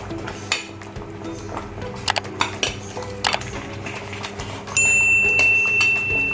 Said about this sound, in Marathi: आता आपण त्यामध्ये घालूया आपल्या ह्या परतलेल्या भाज्या.